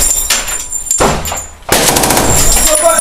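Bursts of gunfire during a training exercise, loud close cracks and rattling reports with short gaps between them, mixed with background noise.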